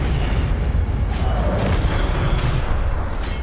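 A fire spell cast in Hogwarts Legacy erupts as a loud, continuous roaring whoosh with a deep rumbling body, sustained for a few seconds without pause.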